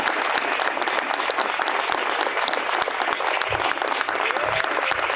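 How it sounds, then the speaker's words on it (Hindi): A church congregation at a unity mega meeting breaks into loud, sustained clapping for Jesus, a dense crowd applause that holds steady throughout. "यीशु के लिए जोरदार ताली हो जाए"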